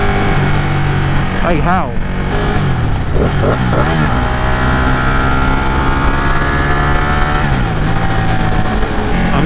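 A 2018 Ducati Panigale 959 motorcycle engine drones loudly and continuously while riding, with pitch rising and falling, as someone talks briefly over it.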